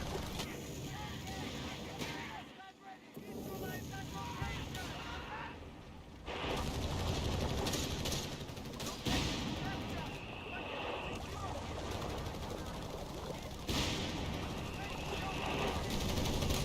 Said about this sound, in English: Man, this barrage is not really connecting here, is it?